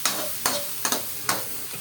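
Pork and other ingredients being stirred in a hot pan for mechado, with a few distinct scraping strokes over a low, steady sizzle, close and fairly quiet.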